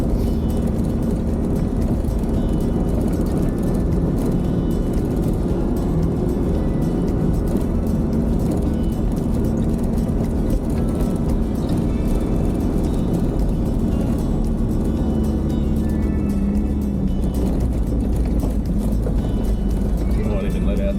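A vehicle rumbles and bumps along a rocky bush track on the Trans Access Road toward Rawlinna, with a continuous engine drone, tyre crunch and rattles, while people talk at times over the noise.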